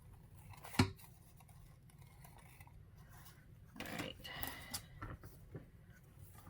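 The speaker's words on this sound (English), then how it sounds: "I am going to take my scissors and I'm just going to kind of trim it a little bit" Scissors trim a paper napkin for a Christmas card, a sharp close snip followed later by a short run of soft cutting and rustling, with talking heard over parts of it.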